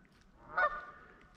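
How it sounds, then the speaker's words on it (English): Geese honking outdoors by a fishing spot, a short burst of a few calls in the middle, moderately near over quiet background. "I don't know if you can see the pretty geese."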